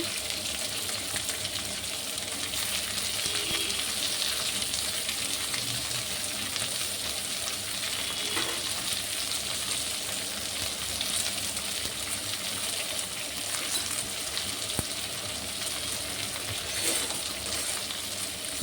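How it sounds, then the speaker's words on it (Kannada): Onions and green chillies sauté in hot oil in a pan with a steady, loud sizzle and crackle. It runs alone throughout, with occasional stirring scrapes. "ಈಗ ಈರುಳ್ಳಿ ಹಸಿಮೆಣಸಿನ್ಕಾಯಿ ಹಾಕಿ ಒಂದು ಎರಡು ಮೂರು ನಿಮಿಷ ಅದನ್ನು ಚೆನ್ನಾಗಿ ಬಾಡಿಸಬೇಕು"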